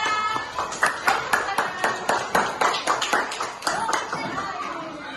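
Children in a classroom clap together in a quick burst of roughly a dozen rhythmic claps, fairly close and steady, with some voices mixed in.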